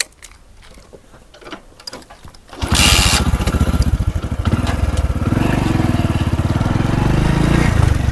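A modified Hero Honda CD100 motorcycle engine fires up after a few clicks and handling sounds, then idles loud and close with a steady rapid single-cylinder putter that grows slightly stronger.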